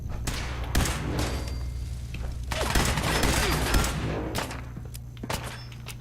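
Gunfire in Fallout 4 breaks out in bursts of sharp shots and thuds, dense and loud in the middle stretch, with scattered single cracks before and after.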